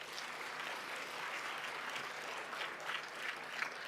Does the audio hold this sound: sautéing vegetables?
no